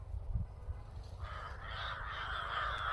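Several crows caw together in a noisy, overlapping chorus around a village tiger, the calls growing louder and more continuous toward the end.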